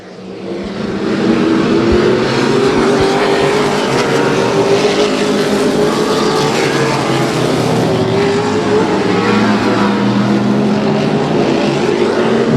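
Race cars run at Houston Motorsports Park, engines roaring loud and close in a sustained buzzing drone that rises quickly and stays strong as the pack passes.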